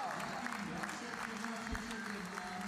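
Spectators at an indoor athletics meet in Nehvizdy applaud in a steady, moderately distant wash of clapping, with a commentator's voice over it.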